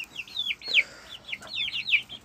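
Chickens from a cross between a hen and a Brahma rooster cluck in a quick series of short calls, fairly close and clear, with no one talking.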